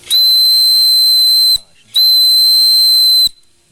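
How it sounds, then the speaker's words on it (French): A homemade ring steam whistle blows two long, steady, shrill blasts separated by a short gap, loud and close, with a hissing edge. "Donc c'est un sifflet annulaire. Sifflet fait maison, annulaire mais fait maison."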